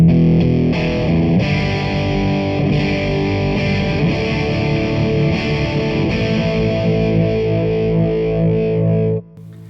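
Distorted electric guitar played through an amp and speaker cabinet, with a thick low-end rumble under dense sustained chords, loud and steady for about nine seconds before cutting off abruptly.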